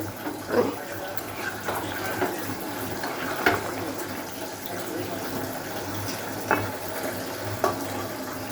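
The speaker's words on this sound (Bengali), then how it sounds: "মাছের মধ্যে জল দেওয়া হয়ে গেল" Water pours into a pan of fish curry, giving a steady wet rush and bubbling with a few sharper clinks and splashes scattered through it, at moderate volume.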